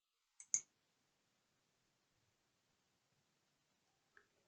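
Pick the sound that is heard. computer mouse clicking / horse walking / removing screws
computer mouse clicking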